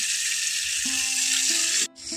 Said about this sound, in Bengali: মাছগুলো এইদিকে ভাজা হতে থাক